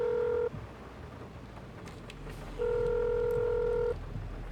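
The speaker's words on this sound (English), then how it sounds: "let's phone David whilst we're trying to navigate these fields" A phone call ringing out in Farming Simulator 22 roleplay: two long, steady electronic ring tones separated by a pause of quiet, close and clear, with no talk.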